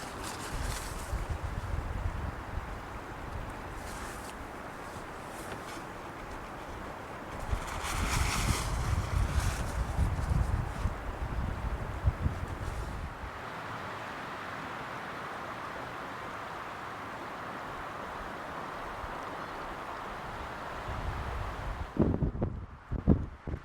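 Wind gusts buffet the outdoors on a mountain pass, a broad rushing roar that swells and fades with heavy low rumbling against the microphone, then cuts off abruptly near the end.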